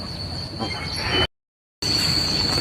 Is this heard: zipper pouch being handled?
no